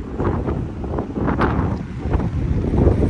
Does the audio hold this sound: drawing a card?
no